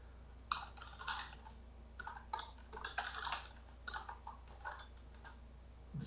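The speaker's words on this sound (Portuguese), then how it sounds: "Digitando alguns dados aqui só para mostrar para vocês que eu posso" Quiet, irregular keyboard typing as data is entered into a table on a computer, with soft clicks coming in clustered bursts and short pauses in between, close and low in level with no talk.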